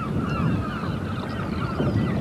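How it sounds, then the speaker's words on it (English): A large flock of black-headed gulls calls over a gravel pit lake, with overlapping raucous cries at a distance over a constant rumble of wind. "Mostly all black-headed gulls, I think."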